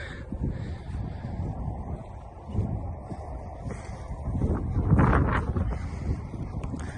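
Gusty wind buffeting the microphone, rising and falling in rough low roars, with no voices.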